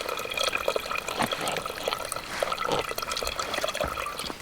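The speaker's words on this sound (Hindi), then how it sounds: "पानी का बस्किला भर ले रहे हैं भाई लोगों" Water pours and splashes steadily as a container is filled at a campsite, a continuous close liquid rush with small drips and knocks, no talk.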